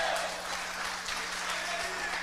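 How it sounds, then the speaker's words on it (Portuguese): A church congregation applauding during an evening service, steady clapping throughout with a faint low hum beneath. "Aí, pode aplaudir, aplaude."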